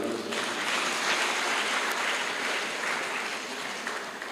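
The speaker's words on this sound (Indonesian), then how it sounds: "Kepada Bapak Pendeta Dr. Franky, kita berikan tepuk tangan" An audience at a public seminar claps steadily throughout, a dense, even wash of applause from many hands with no voices standing out.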